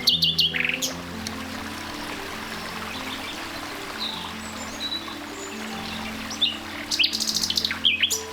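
Birds chirp and sing in Casa de Campo park, Madrid, with bright tweets at the start and near the end over a soft, steady trickling water background.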